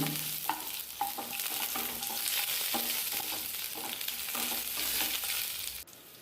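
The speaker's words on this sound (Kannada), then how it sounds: "ಕರಿಬೇವಿನ ಎಲೆ ಹಾಕೊಳ್ತಿದ್ದೇನೆ ನಂತರ ಬೆಳ್ಳುಳ್ಳಿಯನ್ನು ಸಣ್ಣಗೆ ಕಟ್ ಮಾಡಿ ಹಾಕ್ಕೊಂಡೆ" Curry leaves and finely chopped garlic fry in a pan, a steady crackling sizzle with repeated scraping stirs every second or so, heard close and without speech until it cuts off at the end.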